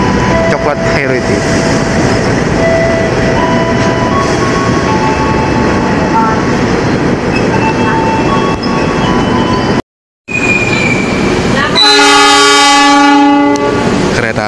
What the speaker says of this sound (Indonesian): Kereta api Sembrani tambahan berangkat kembali dari stasiun Jatinegara, tujuan akhir stasiun Gambir.